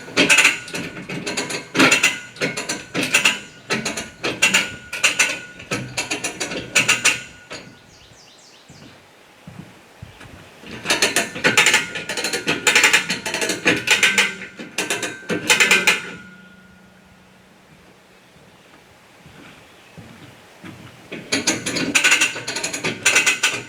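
Hand winch ratcheting as a cabin wall is raised at a Maine building site, rapid clicking pawl bursts in three long runs separated by quieter pauses, close and loud with no talk.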